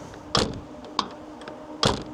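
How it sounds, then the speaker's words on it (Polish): A 1996 Fiat Cinquecento 700 car door clunks open and shuts, with a couple of sharp mechanical knocks and clicks in between, close by and quiet otherwise. "Dźwięk otwierania i zamykania drzwi."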